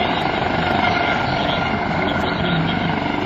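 An HH-65C Dauphin helicopter at the 2007 Wheels and Wings Airshow gives a loud, steady, close rotor and turbine roar that holds level throughout without a break.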